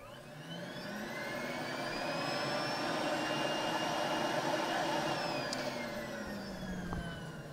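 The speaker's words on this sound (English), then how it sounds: "The way they've designed this new motor now, it takes off like a jet engine." A Rainbow SRX vacuum cleaner motor spins up with a rising whine, holds a loud steady roar with high tonal hum, then begins to wind down.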